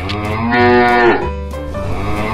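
A cow moos once, loud and close, a long harmonic lowing call with a slight pitch drop, followed by quieter ambient sound.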